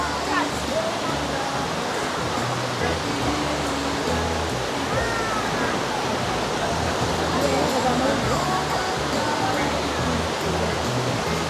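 Rushing water at a waterfall in Dingalan, Aurora, a loud steady roar filling the whole stretch, with faint crowd chatter mixed underneath.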